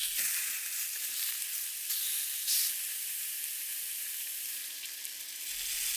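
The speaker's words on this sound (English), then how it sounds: "Get a pan hot with a tiny bit of cooking spray and sear them for about 4 to 5 minutes per side." A steady, bright sizzle of chicken searing in a hot pan with a little cooking spray, constant hiss with occasional crackles, no voices.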